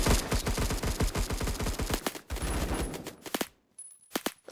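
Suppressed gunfire in the Roblox shooter Phantom Forces crackles in rapid automatic bursts of sharp, dense shots, breaking off into a few scattered single pops near the end.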